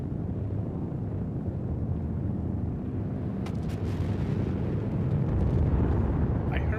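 A spaceship engine in the Star Citizen video game runs at full power and overheats, making a loud continuous roaring rumble that swells toward the end.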